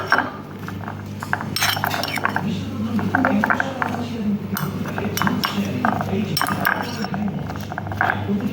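Guava is mixed in a bowl, with repeated light clinks and scrapes of a utensil against the dish and people talking throughout.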